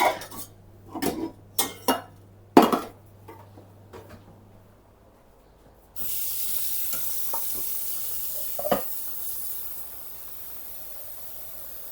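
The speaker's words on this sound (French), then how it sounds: "Ça va être une cuisson rapide sur les crevettes." Shrimp cooking in a pan over moderate heat: a few clinks and stirring knocks at first, then a steady, fairly loud sizzle of frying takes over and holds to the end.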